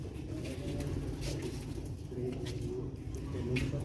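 Silver female Sialkoti rooftop pigeons cooing on a roof, soft repeated coos close by, mixed with steady low background noise and possible faint voices.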